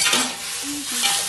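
Long beans and chicken with a little chili sauce and soy sauce sizzle in a pan while a utensil stirs through them in a few quick scraping strokes, close and clear over the steady frying hiss.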